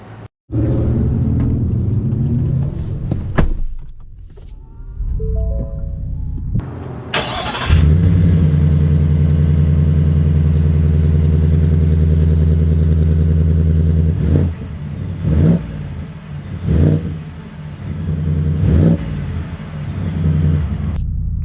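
A 2022 Ford F-150 Black Ops with a 5.0 Coyote V8 starts up with a loud cabin roar, then settles into a steady, deep engine drone with a few short bursts and clunks, heard close from inside and alone.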